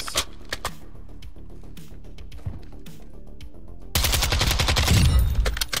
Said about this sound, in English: Watch how many bullets it takes to kill this guy down here.